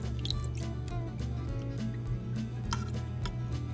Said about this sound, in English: I'm gonna add a cup of water to the bottom